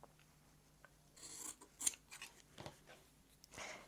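Scissors trim quilt fabric scraps in a few quiet, close snips spaced irregularly over a few seconds.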